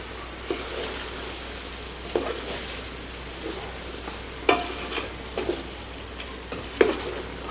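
A spoon stirs country chicken pulao masala in a pot with light sizzling underneath, giving several distinct scraping strokes spaced a second or two apart.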